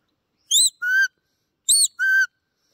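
A shrill dog training whistle for a Border collie sounds twice, each a pair of short piercing blasts, bright and close with silence between.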